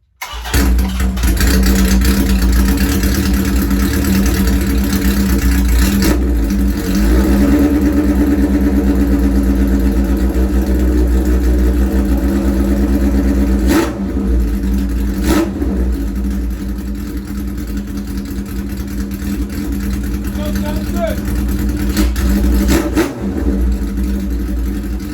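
A Shovelhead motorcycle engine cranks, catches and idles roughly, then revs in several loud throttle blips with a deep thumping exhaust, close and sustained throughout with no talking.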